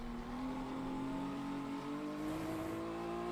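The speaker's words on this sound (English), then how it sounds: "Car engine." A GT race car engine in Le Mans Ultimate drones steadily at high revs, its pitch slowly rising, with no voices.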